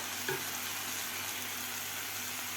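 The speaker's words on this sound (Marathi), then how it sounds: "कसुरी मेथीमुळे भाजीला टेस्ट खूप छान येते व्यवस्थित आपण एकदा हलवून घेऊया" Cashew masala curry with kasuri methi is stirred in a pan in dhaba style, with a continuous close sizzle of frying and a brief scrape of stirring near the start.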